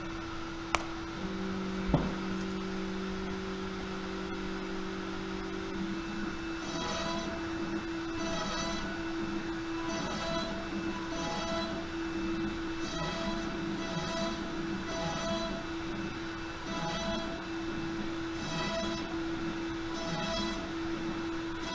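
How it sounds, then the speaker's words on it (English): An X-Carve CNC machine carves inside its enclosure: a constant spindle whine underlies rhythmic, repeating bursts of cutting and stepper-motor movement, steady and moderately loud throughout. "Once our machine finishes cutting, it travels back to the center"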